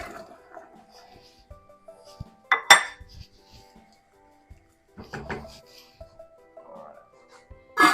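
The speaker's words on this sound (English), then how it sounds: "I'm now going to put those potatoes into the boiling water" Potatoes dropped into a pot of boiling water with the lid set on: two loud clattering bursts of metal and splashing, then quieter clinks and a final clang, with no talking.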